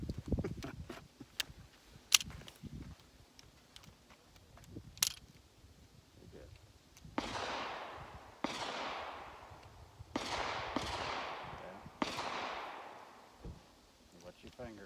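Several sharp .380 pistol shots fired outdoors at a range, spaced a couple of seconds apart and each trailing off in a broad echoing decay, with smaller clicks and handling noises between them.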